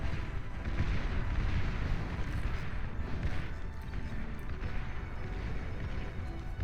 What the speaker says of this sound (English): We have some barrages popping their little napalm cannons up and firing away here.